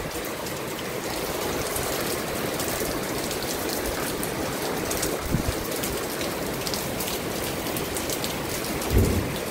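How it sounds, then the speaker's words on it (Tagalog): Heavy typhoon rain pours down in a dense, unbroken roar, with a low rumble of thunder near the end and no voices. "Sobrang lakas po ng ulan."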